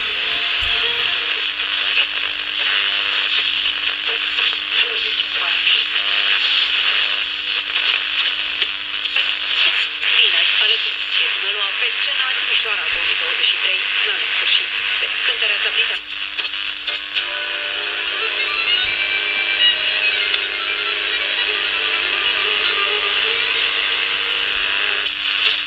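Old Accord transistor radio powered by a 9-volt battery in a basement without an external antenna, giving a steady hiss of static and noise with a constant hum and faint ticking crackles throughout.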